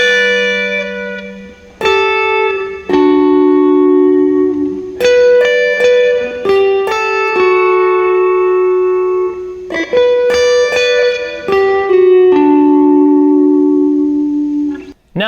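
An electric guitar plays a song intro with overdrive, delay and reverb, clear sustained single notes and double-stops ringing out in a slow, spacious phrase, each note trailing into echoes, close and loud with no talking.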